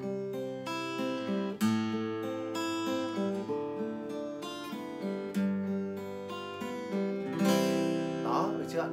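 ET15 acoustic guitar is played up close with clear, ringing plucked notes and strummed chords, a few sharper attacks, and quiet talk near the end.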